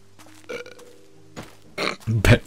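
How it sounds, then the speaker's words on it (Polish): A video game character in The Witcher 2 lets out a loud, drawn-out burp near the end, after quieter game sounds and brief voice bits. "Beknął."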